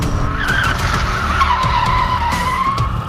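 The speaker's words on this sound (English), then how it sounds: "Don't turn the wheel so hard. The car's going sideways." Tires squeal continuously as a car drifts sideways during a street race, a loud, close, sustained skid with engine roar underneath.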